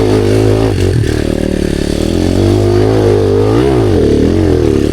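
A motorcycle engine revs loudly and close by on an enduro trail, the pitch rising and falling a few times over a steady rumbling idle.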